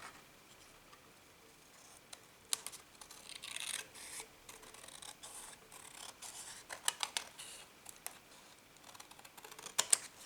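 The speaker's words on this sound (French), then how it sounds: "On va essayer de couper" Scissors snipping through paper scraps while making a card, a series of faint, sharp irregular cuts and rubbing sounds close by, with no talking.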